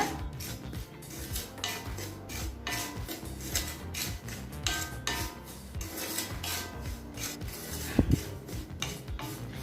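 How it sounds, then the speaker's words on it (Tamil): Semolina (rava) being dry roasted slowly in a kadai, giving a steady scraping and rubbing of a spatula against the metal pan with light gritty rasps, close and alone, one louder knock near the end. "ஸ்லோலே வச்சு ரவையை நல்லா கலர் மாறாத மாதிரி வறுத்துக்கோங்க."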